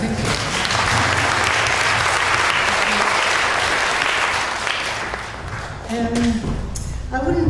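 Audience applause at an international conference on PANS, a dense wash of clapping that fills the hall for several seconds, then thins out as a voice speaks near the end.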